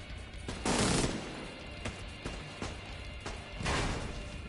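Machine gun fire in The Division 2, heard as two loud bursts near the start and end with a few sharp single shots in between, no talk over it.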